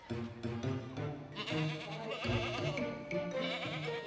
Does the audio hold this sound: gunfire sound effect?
no